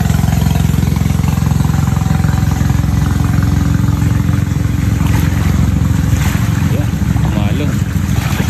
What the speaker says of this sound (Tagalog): May dadaang bangka.